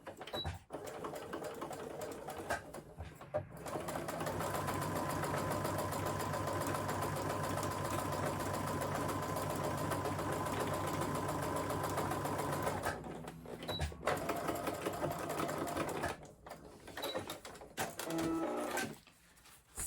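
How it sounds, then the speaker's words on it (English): Sewing machine stitching a plain seam in fabric with backstitching at each end, a steady close mechanical whir running for long stretches, broken by short pauses where it stops and starts again. "You're going to back stitch at the start and the finish, and then come all the way down to the edge of the fabric."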